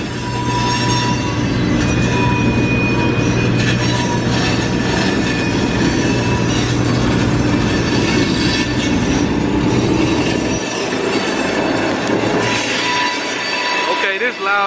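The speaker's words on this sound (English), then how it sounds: "It's a remote control driving the train." A remote-controlled train rolling past at close range, loud continuous rumble and wheel squeal for the whole stretch, fading near the end.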